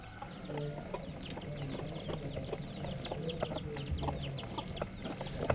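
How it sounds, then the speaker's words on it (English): Chickens cluck and chatter steadily around a rooster, with scattered sharp calls and a busy farmyard background throughout. "He's probably the dad, that rooster there."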